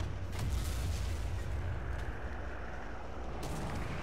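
A bomb explosion in War Thunder: a loud, rumbling blast with sustained low roar and a few sharp cracks, heavy and close, with no talking.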